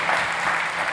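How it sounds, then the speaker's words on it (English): An audience at a startup competition applauds a speaker, a thick, even wash of clapping heard close and sustained throughout. "Big applause for Thomas"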